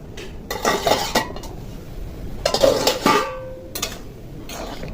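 Metal cookware clatters as a lid is set over a pot of steamed kachur loti (taro stolons), with several sharp clanks and scrapes and a brief ringing tone.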